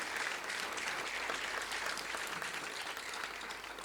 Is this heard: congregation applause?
yes